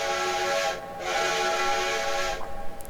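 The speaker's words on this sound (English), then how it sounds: "of course you change the whistle, it changes the bell to whatever is tied to that whistle." A steam locomotive whistle on a WVRR 2-8-2 in Trainz 2019 sounds loud and sustained, breaking briefly and then resuming, with a hissy steam edge and no voices.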